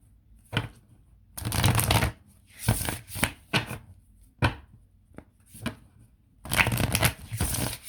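Elemental Power Tarot cards shuffled in several quick riffling bursts separated by short pauses, close and crisp with no talking.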